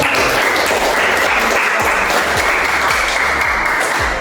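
A classroom group applauds together after presentations, with dense steady clapping from many hands, close and loud, lasting the full few seconds without talk.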